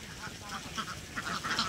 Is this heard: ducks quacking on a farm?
yes